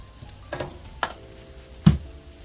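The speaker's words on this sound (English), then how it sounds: "I'm gonna stir this in for a couple more seconds." Meatless jerk taco filling with tomato ketchup and paprika being stirred in a pan, giving a few separate scraping strokes and soft clatters over a faint low sizzle.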